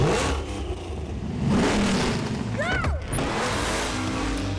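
A Dodge-engined car built in the UK for Europe, shown among movie cars, revs and accelerates, its engine rising and falling at moderate loudness with a brief whine partway through.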